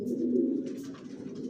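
A Johnson line silver racer homing pigeon, a long-type female, gives a soft low coo close to the microphone, one brief throaty phrase in a quiet loft.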